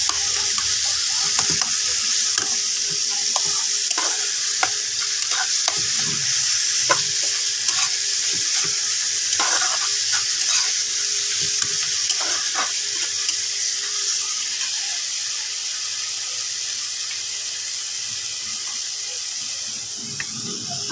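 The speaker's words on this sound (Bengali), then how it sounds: "এবার একসাথে এটাকে কষিয়ে নেব।" Pumpkin and potato with a little sugar sizzle steadily in a hot pan while being stirred, a constant bright frying hiss dotted with soft scrapes and pops of the spoon, close and continuous.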